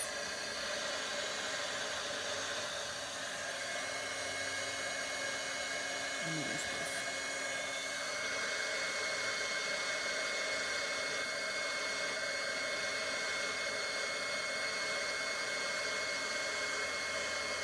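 A dryer blowing air over a craft project gives a continuous, even whoosh for the whole stretch. It stays steady and fairly quiet, with no talking.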